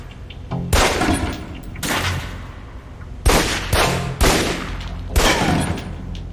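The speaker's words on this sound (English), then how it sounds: "Equip the pistol, then aim down range and take some shots at the target" About six sharp pistol shots ring out at a target on a firing range in the video game Alpha Protocol. Each loud crack is followed by a short decaying tail, spaced roughly a second apart.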